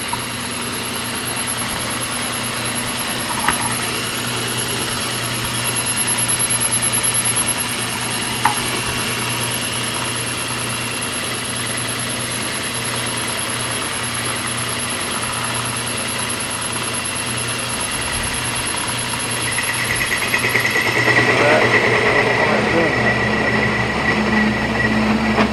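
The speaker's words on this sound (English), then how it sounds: "the motor's really sparking back here, a little rusty" A sparking DC motor converted to drive a lathe, running with a steady, close mechanical hum and whine that grows louder and rougher toward the end, with no talking.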